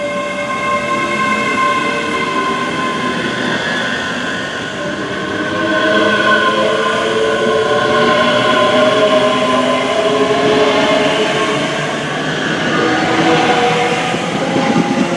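A train runs close by at Carluke Railway Station on the West Coast Main Line, a loud sustained rumble with a layered tonal whine that rises and falls gently for the whole stretch, and no voices.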